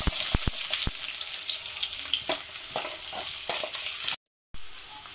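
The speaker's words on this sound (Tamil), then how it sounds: "இப்போ கட் பண்ணி வச்சிருக்க onion ஆட் பண்ணிக்கலாம்" Chopped onion sizzles in hot oil with cinnamon and cloves, a close, steady frying hiss punctuated by sharp clacks of a spatula stirring the pan, briefly cutting out near the end.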